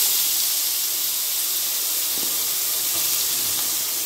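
Beetroot dropped into hot oil in a kadai sizzles with a steady, loud, broadband hiss that holds unchanged throughout, with no talking.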